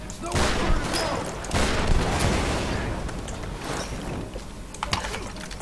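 Pistol gunfire in the Tomb Raider video game, several loud sharp shots in quick bursts amid dense game noise, with someone talking excitedly over it.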